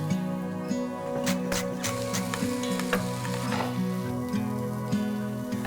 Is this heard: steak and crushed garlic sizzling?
yes